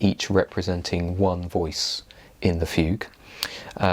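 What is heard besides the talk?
No distinct noise like a dog, phone or traffic.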